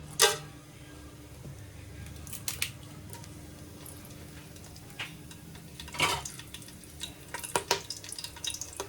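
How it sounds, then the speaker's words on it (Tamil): Biryani ingredients dropped into hot oil, first a sharp splash then a steady close sizzle, with metal scrapes and clinks of stirring in the pan growing busier toward the end. "ஆயில் நல்லா ஹீட் ஆயிடுச்சு. இப்போ நம்ம எடுத்து வச்சுக்கிற எல்லாத்தையும் உள்ள சேர்த்துப்போம்."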